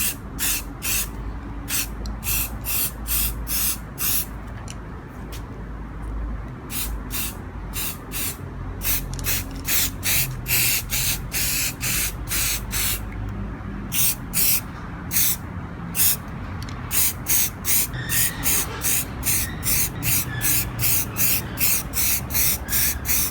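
Rapid rhythmic bursts of aerosol spray hiss, each a short loud blast repeated in quick succession, as metallic gray paint is sprayed onto a Mazda 808 tail light close up, with no voices.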